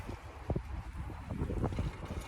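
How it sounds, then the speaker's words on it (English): Wind gusting outdoors in a small spring garden, buffeting the microphone with low rumbling bursts and a steady rushing hiss, no voices. "It is a little windy outside."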